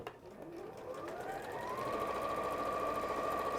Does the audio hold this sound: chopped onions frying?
no